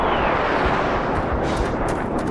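Gunfire and explosive blasts in the video game Black Mesa, the Half-Life remake, form a loud, dense roar of continuous rumbling shots with no speech.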